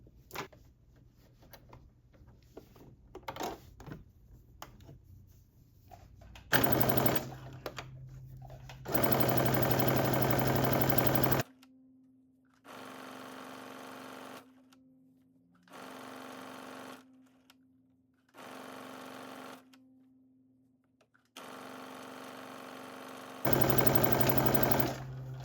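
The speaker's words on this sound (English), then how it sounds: "we're going to fold it and we're going to do an edge stitch using 3/8 of an inch seam allowance" A sewing machine edge-stitches a fold of sweatsuit fabric at a 3/8 inch seam allowance, running in several loud sustained bursts with quiet pauses between, the later runs steady and even.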